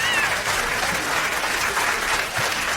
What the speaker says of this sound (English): Abel, just give them the clap.